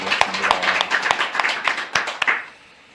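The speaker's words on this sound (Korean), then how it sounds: "다시 한번 박수로" Scattered hand claps from a church congregation in Korea during a Sunday service, a handful of sharp separate claps spread across the moment and fading out near the end, with no talk over them.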